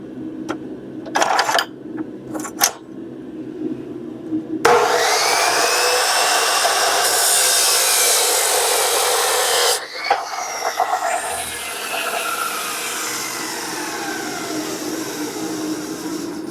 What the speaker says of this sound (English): gonna cut the steel. I'm gonna bring this over to the chop saw.